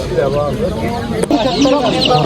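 Chickens at a poultry market cluck in short, close bursts among busy background noise, with people talking nearby.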